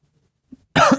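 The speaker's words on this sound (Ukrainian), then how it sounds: "Хто це кашляє?" A sharp cough bursts out loudly near the end, preceded by a faint, brief throat sound in otherwise near silence.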